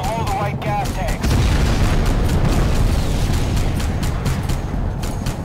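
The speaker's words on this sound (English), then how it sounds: "Blow the right gas tanks." Gas tanks blow up in the shooter game Crysis: Warhead, a loud sustained roar of explosions and crackling blasts that fills most of the stretch without spoken words.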